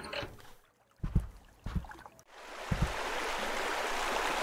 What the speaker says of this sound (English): Could have turned the sprinkler off for me